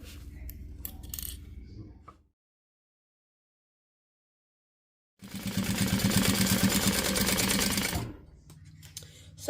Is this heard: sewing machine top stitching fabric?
yes